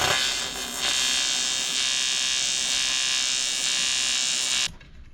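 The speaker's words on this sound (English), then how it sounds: "I score the fold lines with the grinder to make it easier to fold." An angle grinder scoring fold lines into a panel: a loud, continuous high-pitched whine and grind held steady for several seconds, then cut off abruptly as the tool stops, with no talk.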